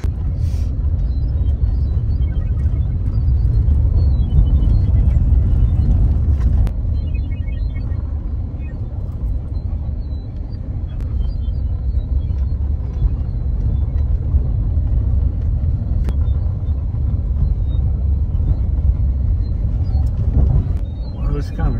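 A Toyota Corolla rolls over a rough dirt track near an abandoned gold mill in Quartzsite, giving a steady, loud low rumble with bumps and rattles throughout. Voices talk over the engine noise.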